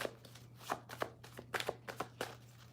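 Tarot cards being shuffled by hand, a run of quiet, uneven riffling flicks and soft slaps over a steady low hum, close and faint with no talk.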